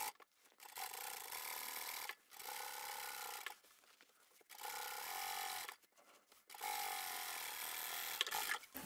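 A sewing machine runs long straight quilting stitches through the layers of a fabric table runner in four steady bursts, each a whirring hum separated by short pauses, faint and close.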